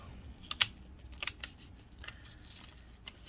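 An adhesive strip being peeled from inside a Dell XPS 15 7590 laptop gives a few close, sharp crackling ticks and snaps, clustered early and then sparser, over quiet background.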